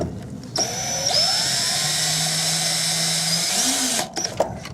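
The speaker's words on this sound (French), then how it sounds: "ensuite on visse les vis" A power drill drives screws into the rack rail of an automatic gate opener, whirring loudly and close for about three seconds, its pitch shifting under load before it cuts off, with brief handling noises on either side.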